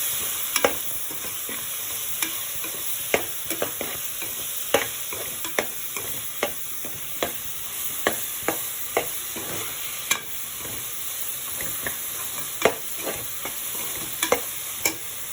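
Onion and tomato sautéing in a pan with turmeric and salt, a steady close sizzle under repeated sharp clicks of a spoon stirring against the pan.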